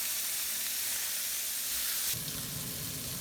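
Hamburger patties sizzle steadily in a pan over turned-down heat, a continuous close frying hiss that swells a little louder near the end.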